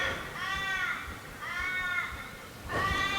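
Crows caw in a slow series of three harsh, drawn-out calls, moderately close, over a faint background hum, outdoors in the Australian wilderness by the Darling River.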